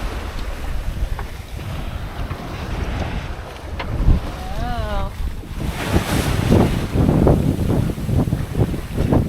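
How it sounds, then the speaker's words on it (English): A sailboat runs across open ocean swells on a 200-mile passage off Baja, with steady wind buffeting the microphone and waves rushing and splashing against the hull, growing louder and choppier in the second half. "Now we're galloping across the waves as the wind has shifted."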